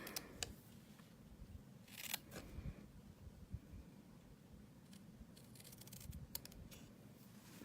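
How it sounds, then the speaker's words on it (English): Card stock being cut for a handmade card, scissor snips and paper scratches coming in a few scattered bursts over a low, steady background noise, close and fairly quiet, with no talking. "So we're going to be cutting here."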